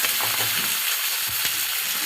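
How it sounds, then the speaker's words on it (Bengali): Sliced onions sizzle in hot oil while being fried into crisp beresta, a dense, continuous crackle with a couple of soft stirring knocks close by. "এখন হবে বেরেস্তা পেঁয়াজ"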